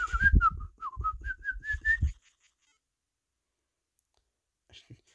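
A whistle in the Anticipation video game gives a quick run of short chirping notes that rise and dip for about two seconds, then goes silent apart from a couple of faint clicks.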